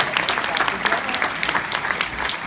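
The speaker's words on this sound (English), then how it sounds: "Let's give a great round of applause for Dr. Sherin" A crowd applauds at a public announcement event with Patrick J. Kennedy: dense, steady clapping with sharp individual claps, fairly close and sustained for the whole stretch.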